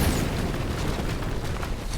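A bomb blast in the God of War video game, heard as a dense, sustained low rumble that roars steadily for the full two seconds with no pause.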